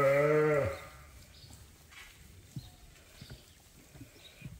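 A single sheep on a farm gives a close, loud, wavering bleat lasting under a second, followed by quiet rustling and faint knocks.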